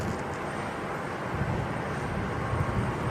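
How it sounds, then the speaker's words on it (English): A Boeing 777-9X taxis toward the runway at Everett Paine Field before its first test flight, giving a steady, fairly distant jet-engine rumble and broad roar with no voices. "the airplane is moving to the runway"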